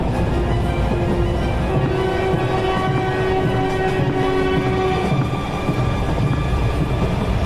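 A train rumbles loudly and steadily close by, a dense roar of rolling wheels with a long sustained horn tone held for several seconds over it.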